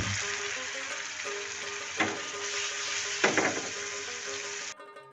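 Chopped onions frying with garlic chutney in a pan give a steady close sizzle, with two brief bursts of stirring scrapes before the frying cuts off near the end.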